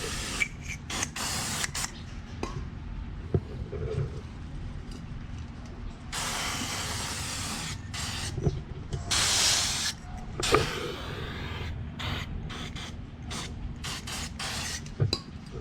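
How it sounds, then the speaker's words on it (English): Chain and engine degreaser sprayed onto a motorcycle chain during cleaning, heard as several bursts of aerosol hiss, the longest around six to seven seconds in, set against a steady low mechanical background with a few light clicks. "for the next step, we're gonna use now the chain and engine degreaser. Just spray it like that."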